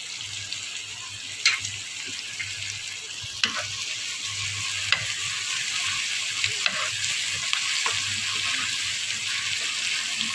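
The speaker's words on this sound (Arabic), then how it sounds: "حطينا في الوك شويه زيت، وبعد كده البصلايه" Onion sizzles in oil in a wok with a constant frying hiss, punctuated by occasional sharp clinks and scrapes from stirring, all close and without talk.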